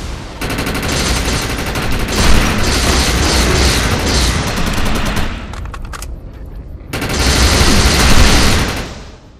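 Dense, loud automatic gunfire boosted by the Overcharge power in the Defiance shooter beta rattles almost continuously, with a short lull before another sustained burst.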